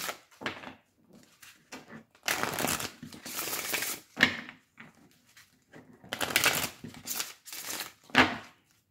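Oracle cards shuffled and dealt in bursts of riffling, flicking card sounds separated by short pauses, close and fairly quiet, with no talking.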